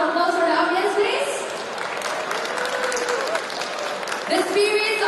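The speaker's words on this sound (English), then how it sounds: "can I hear a big round of applause for the audience, please?" A crowd applauds steadily throughout, with cheering voices mixed into the clapping.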